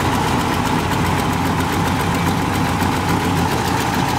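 A 1968 Ford Ranchero GT with a 390 V8, long-tube headers and Flowmaster mufflers idles steadily up close, a loud, even, lumpy rumble with no talking over it.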